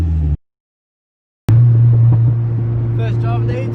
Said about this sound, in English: First drive of the EG, boys, no registration.